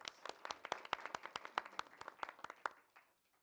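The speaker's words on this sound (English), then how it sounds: "So, round of applause." A small audience at a school district board meeting claps with distinct, fairly sparse hand claps that fade out after about three seconds, faint and somewhat distant.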